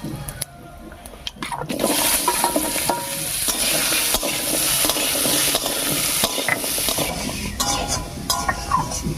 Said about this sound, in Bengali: ফোড়নের উপরে কুমড়োটা দিয়ে একটু নাড়িয়ে নিয়েছি